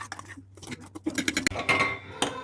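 Spoon stirring raspberry jelly crystal mixture in a vessel, with a quick series of light metallic clinks and scrapes against the sides, moderately close and alone.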